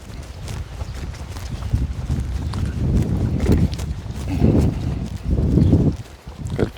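A horse canters under saddle, its hooves thudding in a loose repeating rhythm on soft ground, fairly close and steady with some wind, no talking.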